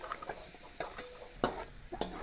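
Vegetables with garlic stir-frying in hot oil, with a faint steady sizzle under scattered scraping stir strokes and light utensil clinks against the pan, close and fairly quiet.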